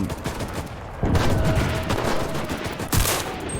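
Sustained gunfire in the Enlisted video game, with machine guns firing from a distance in a dense, continuous barrage and louder bursts rising partway through, no talking.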